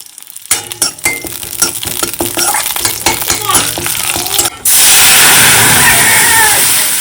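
Dal tempering (tadka) in a small amount of oil: a few light utensil clinks and taps, then an abrupt, loud, steady sizzle that stays close and fills the rest of the moment, with no talking.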